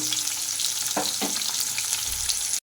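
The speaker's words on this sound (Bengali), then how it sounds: "আমি এখানে একটু হালকা করে ভেজে নিচ্ছি" Fish frying lightly in hot oil, giving a loud, steady, close hiss of sizzling with a couple of brief bubbling pops before it cuts off abruptly.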